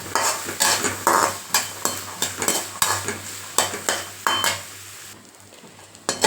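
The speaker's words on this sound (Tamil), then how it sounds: "அப்படியே இது நல்லா வேகட்டங்க கிட்டத்தட்ட ஒரு அஞ்சு ஆறு நிமிஷம் நல்லா இதிலே ஸ்லோவாகவே குக் ஆகிட்டு இருக்கணும்" Turkey berries cooking slowly in a pan and stirred with a spoon, a steady series of sharp scrapes and knocks against the pan over a soft sizzle, close and with no talking.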